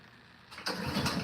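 A Honda lawn mower that died while cutting leaves in snow is pull-started: a short quiet rattle, then the engine catches with a sudden loud, close roar that keeps running to the end.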